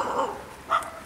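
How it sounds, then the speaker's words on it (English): A dog near a riverbank on a winter fishing outing gives two short, high barks spaced about half a second apart, moderately distant. "The dog barking at me."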